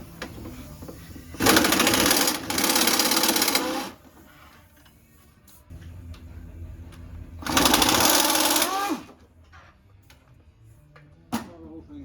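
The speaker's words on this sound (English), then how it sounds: "Then I stick my air ratchet up in there and run it." An air ratchet runs in two loud, sustained buzzing bursts while removing the 13 mm torque converter bolts on a 2017 Jaguar F-Pace during a transmission swap, with quieter workshop clatter and small knocks between the bursts.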